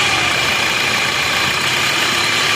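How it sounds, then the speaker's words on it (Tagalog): A car engine idles steadily and loudly up close, a constant dense rumble with no change in pitch or speed across the short stretch. "kasi maganda na yung tunog ng makina."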